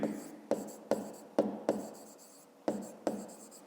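Pen strokes scratch across paper while a math exercise is written out by hand, in a series of about seven short, close scrapes with brief pauses between them.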